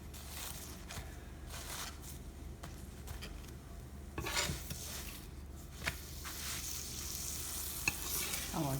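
A chapati turned on a hot pan and spread with butter, a soft continuous sizzle under faint scraping and rubbing strokes, with a few light clinks near the end, quiet and close, no talk.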